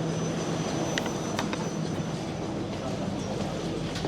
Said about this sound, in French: le métro ressemble beaucoup au métro coréen